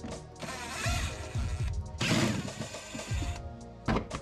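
Ratchet wrench working the 8mm bolts that hold a front fender liner on a BMW F30, giving bursts of close mechanical clicking and metal rattling with short pauses between them.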